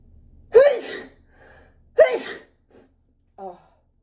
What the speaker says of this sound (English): can't stop sneezing